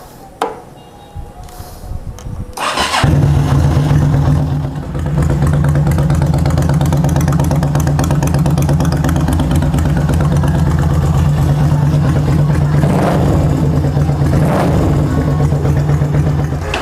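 A 2013 Ruby V-Twin motorcycle fitted with replacement left and right exhausts fires up after a few seconds of quiet handling noise, then settles into a loud, steady, deep idle with a couple of brief blips of the throttle near the end.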